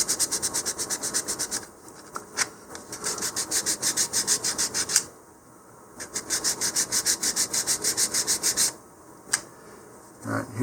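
Fast rhythmic sandpaper strokes rub down dried sanding sealer on a model rocket, heard in three close bursts of rapid back-and-forth scraping separated by short pauses and a few handling knocks.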